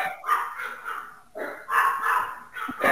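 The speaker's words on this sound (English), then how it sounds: "Whose dogs are barking?" Several dogs bark in quick, overlapping bursts, close and fairly loud, some yips mixed with deeper woofs in an uneven rhythm across a few seconds, nobody talking.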